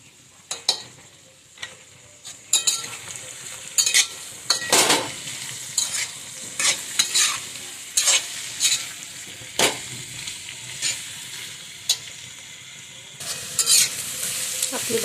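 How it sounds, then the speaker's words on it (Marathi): Potato chutney with turmeric and finely chopped coriander is stirred in a hot pan, steady frying sizzle under repeated sharp scrapes and clinks of a spoon against the pan, close and fairly loud. "आपली बटाट्याची चटणी मस्त तयार आहे बघा"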